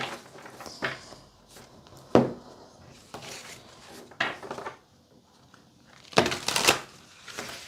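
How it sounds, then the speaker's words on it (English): A deck of tarot cards is shuffled in several quick, crisp riffling bursts separated by pauses, close up and fairly soft. "Let me just give them another couple of shuffles."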